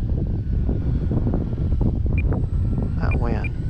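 Wind buffets a microphone at an RC flying field where a Dynam Focke-Wulf 190 model plane is flown, a steady loud rumbling roar filling the whole stretch with a few faint higher tones near the end.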